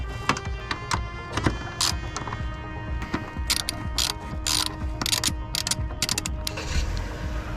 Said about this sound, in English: we're gonna start with taking off the nuts that go to the trans mounts. So we'll start loosening these up